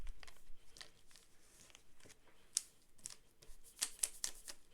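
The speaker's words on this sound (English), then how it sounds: "I'm going to shuffle some more" Tarot cards being shuffled by hand, soft, quiet riffling and sliding with a few sharper flicks and snaps near the end, close and alone without talk.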